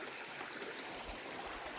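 A river stream flows steadily and faintly at an outdoor riverside cooking spot, a soft continuous rush with no voices.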